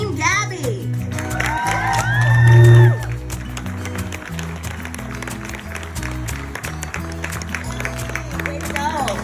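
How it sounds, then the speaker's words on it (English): A crowd at an outdoor suicide-awareness fundraising walk claps and cheers for the top team, with a swell of whoops peaking early, then lighter scattered clapping continuing under music. "give a big round of applause, Team Gabby"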